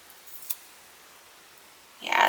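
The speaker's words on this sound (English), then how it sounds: "let's just cut off a couple strips here" Scissors snip paper strips for a spring greeting card, giving one faint crisp cut early on, then a louder rustling swipe of paper near the end.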